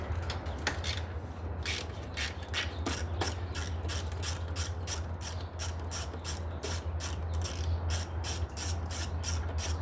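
A ratchet wrench backs out a 10 mm bolt near the cooling fan of a 2006 Chrysler 300 3.5 during timing belt and water pump work. Rapid, steady clicking runs throughout over a low, constant hum, close and with no talk.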